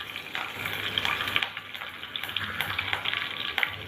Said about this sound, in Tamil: இப்போது நான் ஒரு கொத்து கருவேப்பிலை சேர்த்துக்கிறேன்.